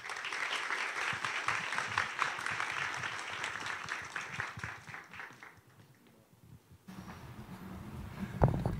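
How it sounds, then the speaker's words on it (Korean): An audience at an Asan Academy information session applauds to welcome the head of the institute. Sustained clapping from a sizable crowd runs for several seconds, gradually thins and fades, then gives way to quiet room sound and a nearby voice. "큰 박수로 환영해 주시기 바랍니다"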